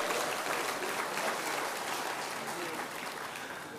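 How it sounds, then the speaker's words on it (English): An audience at the inauguration of the 48th All India Sociological Conference claps in a steady, moderately distant round of applause that stays even, then eases slightly toward the end. "I'll request all the August gathering over here to give a big clap for Dr. Viswanathan."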